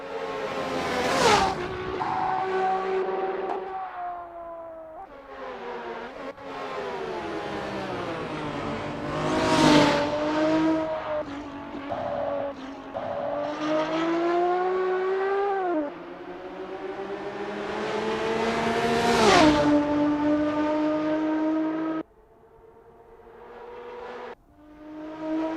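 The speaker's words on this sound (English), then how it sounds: "Colin Mack is getting to grips with the BMW M1 Procar in this practice session." A BMW M1 Procar races in Assetto Corsa, its engine revving hard and rising through the gears with sharp lifts between shifts, a loud, continuous race-car howl with brief drops as it brakes and accelerates again.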